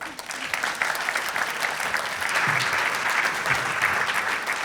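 A conference audience applauds at a liberty forum panel event, giving sustained, dense clapping that swells a little after the start and stays loud and even throughout.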